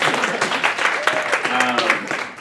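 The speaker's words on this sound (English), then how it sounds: "so yes, applause." Audience applause at a coding bootcamp demo presentation, a steady wash of clapping hands throughout with some tonal sounds and voices mixed in.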